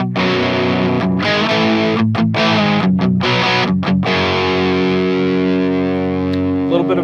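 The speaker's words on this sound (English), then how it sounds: "So here's what the hex drive sounds like." Electric guitar on the bridge pickup, played through a Fortin Hex drive pedal, gives a loud, thick distorted tone with sustained chords and a few brief pauses, with no voices.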